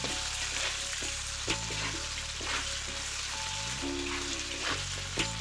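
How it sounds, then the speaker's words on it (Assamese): Vegetables frying with turmeric and salt in a pan, a soft, steady sizzle close by with occasional stirring scrapes and clinks. "এইখিনি অলপ ৰঙচুৱাকৈ ভাজি ল'ম।"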